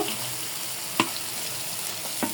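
Shrimp fry in a cooked-down spicy masala paste, giving a continuous close crackling sizzle with two sharp clicks from a spoon or spatula.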